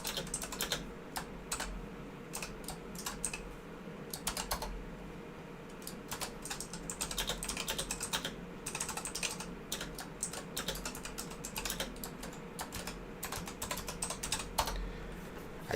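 Fingers type in quick, uneven bursts on a computer keyboard, with crisp key clicks and short pauses over a low steady background hum, and nobody speaking.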